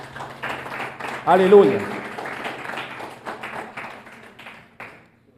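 Congregation clapping during a Spanish-language evening church service, a burst of applause rising briefly then fading under a preacher's amplified voice and a shouted response.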